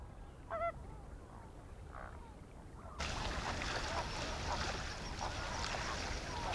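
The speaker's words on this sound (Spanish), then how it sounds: "el cisne coscoroba, una de las aves más amenazadas y escasas del mundo" A rare coscoroba swan in Torres del Paine, Chile, gives a brief honking call, a few stacked notes near the start, faint over steady background wind before a louder broadband rush takes over.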